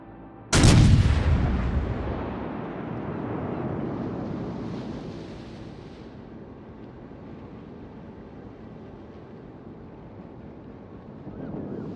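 A single heavy naval artillery blast from the French battleship Jean Bart in World of Warships: Legends, loud and sudden, followed by a long rumbling decay with wind and sea noise.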